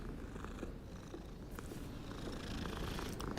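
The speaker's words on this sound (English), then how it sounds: "There's a kitty cat." A cat in the video game Hogwarts Legacy purrs, a low, continuous rumbling close by with steady texture over faint ambient game sound.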